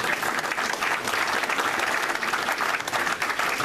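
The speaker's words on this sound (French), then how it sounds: "que je vais vous demander d'applaudir" An audience at a meeting gives a burst of dense, close applause lasting a few seconds, steady and lively, with no voices over it.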